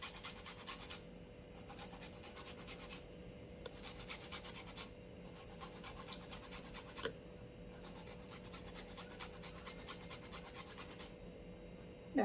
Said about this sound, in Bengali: এবারে দিয়ে দেবো একটুখানি আদা ঘষে এর মধ্যে দিয়ে দেবো অল্প।